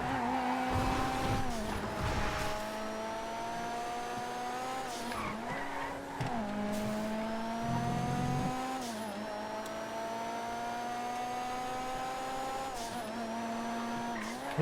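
Monroe sports car from GTA FiveM racing, its engine whining loud and steady through repeated gear shifts and rising revs, with brief tyre skids along the way.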